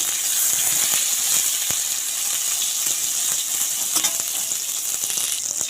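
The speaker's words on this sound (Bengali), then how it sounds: "তো চলো আমি আগে বেগুনগুলো ভেজে নেব" Oil sizzles and crackles steadily as eggplant lightly salted and coated with turmeric fries close by, with occasional sharper pops and spits and no talking.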